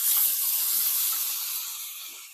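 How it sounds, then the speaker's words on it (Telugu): Tomato pieces hit a pan of frying green chillies and set off a loud, steady hiss of sizzling that slowly fades over a couple of seconds, with no talking. "పచ్చిమిరపకాయలు వేగాయండి. మనం టమాటాల ముక్కలు వేసుకుందాం"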